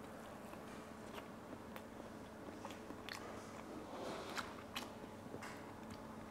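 Close, faint crunching and chewing of crunchy beetroot with injera, with soft clicks and crackles and a steady low murmur of background noise underneath throughout.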